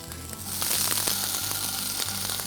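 Paneer and capsicum with diced onions sizzle and fry in a hot kadai, a steady crackling hiss filling the whole stretch at moderate loudness with no talking.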